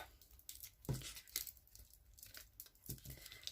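Scissors snip and slide through paper in quick, irregular strokes, close and fairly quiet, with crisp rustling between the cuts and no voices.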